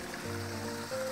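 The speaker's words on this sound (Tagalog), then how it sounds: "Oh, flowing, oh. Malakas ang tubig." Strongly flowing water at a pig farm, a dense, steady rushing wash heard close and loud for a short moment, with a low hum underneath and no talk.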